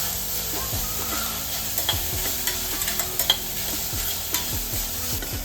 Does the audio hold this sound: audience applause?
no